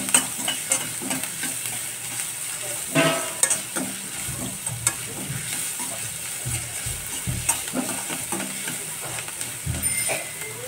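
Curry leaves and chopped onion fry in a pan, giving a steady close sizzle broken by frequent scraping strokes of a spatula at an uneven pace over about ten seconds, with no speech.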